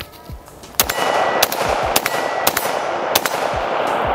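AR-15 rifle firing outdoors: five sharp, loud gunshots spaced roughly half a second apart, each with a ringing metallic tail, following a quieter lead-in.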